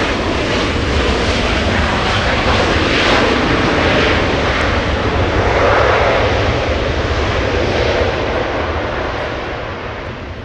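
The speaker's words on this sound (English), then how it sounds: "Southwest coming in from Las Vegas, flight 3119." Southwest airliner landing at LAX after a flight from Las Vegas, a loud, close jet engine roar that builds and holds, then gradually fades toward the end, with no voices.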